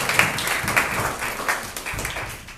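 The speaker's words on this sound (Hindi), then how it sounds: "तो जोरदार तालियां" Loud applause from the audience at a sports awards ceremony in India, a crowd clapping in a dense patter that gradually thins out over a couple of seconds.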